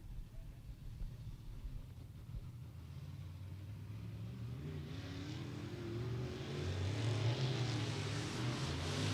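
Compact race cars circling Beckley Motor Speedway during night hot laps, engines droning and building louder as a car nears, a steady mid-distance roar with rising pitch.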